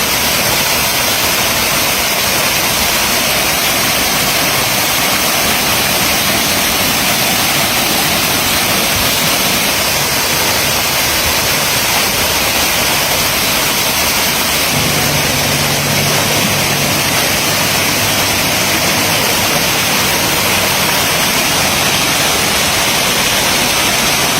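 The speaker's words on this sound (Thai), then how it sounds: "แล้วก็เป็นน้ำตกจำลองนะคะ" An artificial waterfall in a flower garden decorated with ornamental rocks gives a steady, full hiss of falling water that runs unbroken throughout, fairly loud, with a faint low hum joining partway through and no talk.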